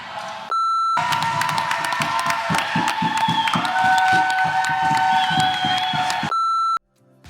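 Crowd cheering and shouting at a race at Grinders Corner, a steady roar of voices that swells for several seconds, framed by a sustained electronic beep at the start and end.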